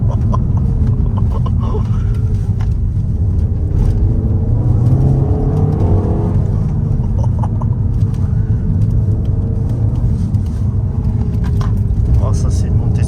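Peugeot 308 GTi pulling hard up a winding sporty climb, a loud steady in-cabin engine drone and road rumble with rising revs, people talking over it.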